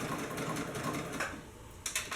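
A sewing machine whirs steadily at close range stitching a quarter-inch seam, with a fast, even mechanical rhythm, quiet and continuous throughout.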